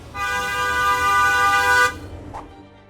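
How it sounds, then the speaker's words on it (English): A car horn blares in one loud, steady honk lasting nearly two seconds over a low background rumble, then cuts off abruptly. "a car horn is about 90 decibels"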